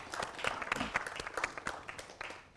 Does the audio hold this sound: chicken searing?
no